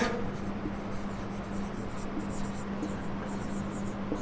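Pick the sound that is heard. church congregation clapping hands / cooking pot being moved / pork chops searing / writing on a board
writing on a board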